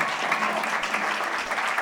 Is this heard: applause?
yes